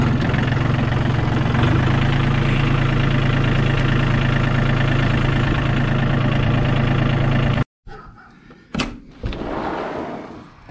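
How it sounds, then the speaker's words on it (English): A V8 engine idles loudly and steadily with a deep, even rumble, then cuts off abruptly, followed by a couple of sharp knocks and clatter. "The Lake Effect engine is running and running on all 8 cylinders."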